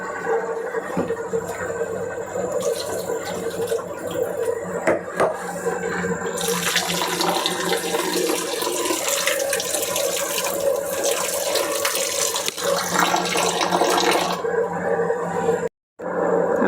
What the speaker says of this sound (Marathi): 2-3 पाण्याने चिकन चांगलं धुवून घेणार आहे।